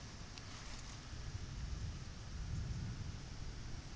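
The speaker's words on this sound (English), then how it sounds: "It's just like rolling thunder." Distant rolling thunder rumbles low and faint over a garden of blooming butterfly blue pea vines, swelling slightly in a continuous murmur without rain.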